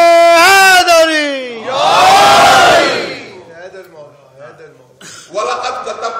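A crowd at a Shia majlis gathering roars back a chanted response to a religious slogan, a loud collective shout after a single leading voice, followed by quieter murmurs and another burst of voices.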